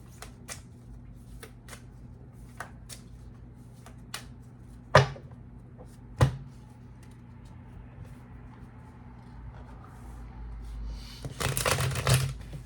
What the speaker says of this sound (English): I'm going to actually shuffle and see what comes out.